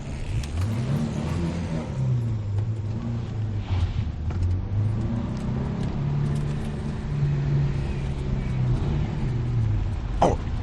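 A car engine in a 1975 French taxi chase scene, running and revving steadily as the vehicle pulls away, loud and continuous for the whole stretch with a brief knock near the end.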